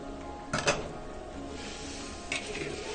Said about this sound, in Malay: Kita kacau dulu.